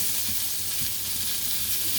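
Zucchini noodles sizzle in a hot non-stick pan with a dense, continuous frying hiss and faint stirring movement, close and steady with no voices.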